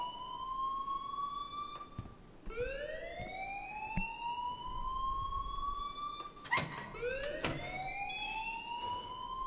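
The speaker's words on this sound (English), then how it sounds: "please turn off that alarm since that's your job" An alarm in the Life Is Strange video game wails in repeated rising electronic sweeps, loud and steady over about nine seconds, with a few sharp clicks between cycles and no voices.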